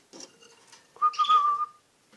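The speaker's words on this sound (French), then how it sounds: "juste à siffler puis ils vont ouvrir leur bec" A person whistles a clear, rising-then-steady tone to hand-fed baby canaries to make them open their beaks, one sustained whistle after softer faint chirps and rustling.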